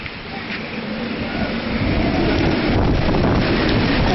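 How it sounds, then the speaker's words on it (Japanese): Strong wind roars at night in Ginowan, Okinawa, a loud broadband rushing that buffets the microphone continuously and builds slightly in force toward the end. "ここは割と風が強くて音はなかなかすごいんですけど"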